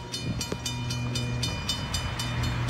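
A southbound CSX freight train approaches a siding with a low steady rumble and engine drone, while a regular clicking beat of wheels over rail joints comes through clearly and no one speaks.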